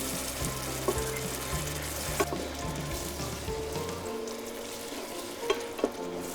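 Masala with curd and cream cooking in a pan, giving a low, steady sizzle with occasional clicks of a utensil against the pan and faint music underneath.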